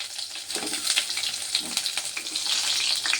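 Shallots sauté in hot oil for Tamil fish curry with a close, fizzing sizzle, broken by brief stirring crackles and growing slightly louder toward the end.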